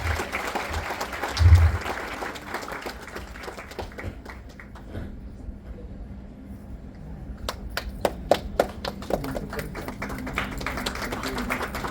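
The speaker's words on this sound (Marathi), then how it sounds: "जरा सर्वांनी टाळ्या वाजवून जरा जोरदार प्रतिसाद द्यायचा" An audience applauds at a state-level consumer protection organisation ceremony in Mumbai: loud sustained clapping that fades, then returns as scattered individual claps.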